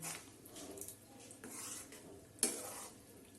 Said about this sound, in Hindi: अब इसमें हम हरी वाली दाल भी डाल देंगे। इसको भी अच्छी तरीके से मिक्स करेंगे।